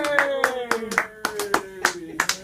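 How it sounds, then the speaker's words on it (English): A small audience at an afternoon radio appearance at the Glass Treehouse gives a thin, sparse smattering of claps, several separate hand claps spaced irregularly over a sustained musical tone. "Smattering of applause."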